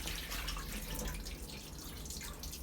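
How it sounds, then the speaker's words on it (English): Murky rice-washing water is drained off rice being prepared for sushi, a continuous close trickling and splashing pour that runs steadily the whole time without speech. "can you see the water is very murky, so you have to drain them out"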